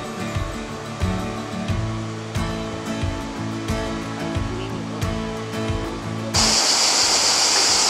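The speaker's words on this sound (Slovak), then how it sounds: "Tak sme pri vodopáde" Waterfall in Krka National Park, Croatia: steady rushing water first sits under rhythmic music, then the music cuts out and a loud, close, broadband roar of falling water takes over.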